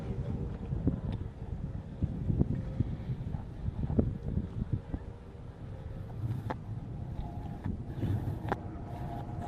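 A SuperSport racing powerboat at a Lake Macquarie race roars past in a steady, distant-sounding engine drone, mixed with wind buffeting the microphone.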